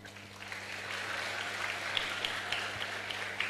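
Steady applause from an audience at a school launch event for a student orientation programme, a dense even patter of many hands clapping at moderate distance, continuing without a break and with no talk over it.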